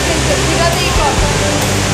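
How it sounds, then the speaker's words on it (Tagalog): Indoor waterfall at Jewel Changi Airport, a loud, steady broadband roar of falling water filling the space, with a voice faintly present beneath it. "Minabagsak ka ng tubig."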